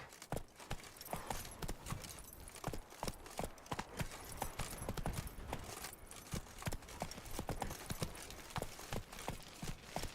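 Horse hooves galloping in the Witcher 3 Blood and Wine game world, a steady rapid clip-clop of repeated sharp hoof strikes running continuously and fairly close, with no talking.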